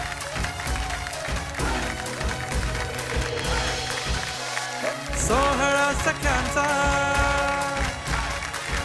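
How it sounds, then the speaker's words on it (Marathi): Audience applause from the Marathi TV show Sohala Sakhyancha, with loud clapping that swells near the end and blends with the show's theme music and singing voices. "एकदा जोरदार टाळ्या होऊन जाऊ देत"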